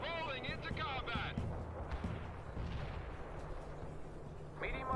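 An artillery barrage in the video game World in Conflict booms in heavy, rumbling blasts that roll through the scene. A voice speaks briefly at the start and again at the end over the thundering fire.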